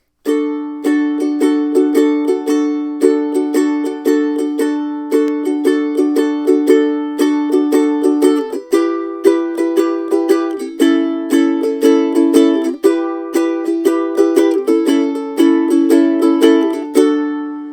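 Steady ukulele strumming in a lively down-up rhythm of a song, the chords accented on the beat and shifting a few times, including D, played close and alone.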